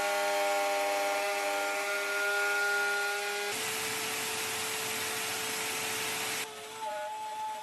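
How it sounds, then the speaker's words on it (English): Router with an up spiral bit cutting a mortise in a wooden breadboard end for a farmhouse dining table, a loud steady motor whine that shifts into a rougher cutting roar midway, then eases back near the end. "if you're going to be doing this type of mortise work with a router, get yourself an up spiral bit"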